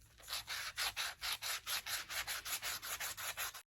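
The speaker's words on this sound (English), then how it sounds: "I'm going to use a sanding block" A sanding block rubs rhythmically over a decorative ball, a close, dry scratching of about fifteen even back-and-forth strokes with no talking.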